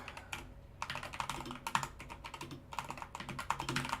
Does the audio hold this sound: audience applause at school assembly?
no